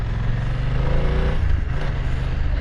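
A BMW F900R motorcycle engine with its standard exhaust rumbles nearby at a low, steady idle-to-light throttle, a deep continuous growl with slight pitch shifts.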